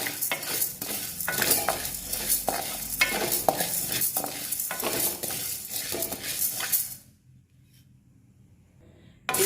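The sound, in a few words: dry roasting and stirring chana dal for idli podi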